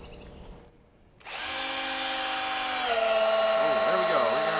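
An electric drill spins up to drive an engine's oil pump while priming a barn-find muscle car engine, giving a loud, sustained whine after a brief pause, its pitch wavering under load near the end.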